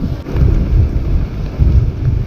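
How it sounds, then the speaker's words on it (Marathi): Steady rain roars close by with a dense low rumble, rising and falling slightly, no voices. "पाऊस चालू झालाय"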